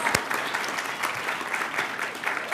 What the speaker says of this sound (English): yes, so many claps.